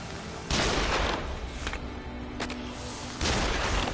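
Bombs bursting in the Nioh action game, two loud booming blasts at the start and end with sharper cracks between, all over a dense continuous battle rumble, no talk.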